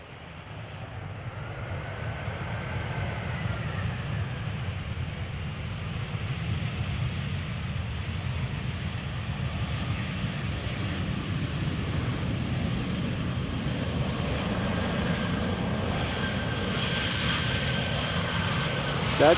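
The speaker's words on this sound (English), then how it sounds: "Lufthansa arriving from Munich, A320, flight 2304" Lufthansa Airbus A320 arriving from Munich at Amsterdam Schiphol, a steady broad jet roar that slowly builds and stays loud and continuous throughout, with no voices.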